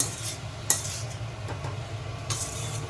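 A metal spoon stirring walache birde, sprouted field bean curry, in a pan while it sautés, with scraping clinks against the pan, one sharper knock, and a faint low background hum, close and steady with no talking.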